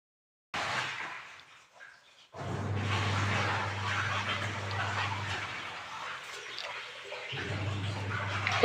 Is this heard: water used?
yes